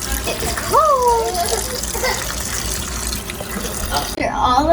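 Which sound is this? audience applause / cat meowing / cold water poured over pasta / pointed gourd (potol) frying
cold water poured over pasta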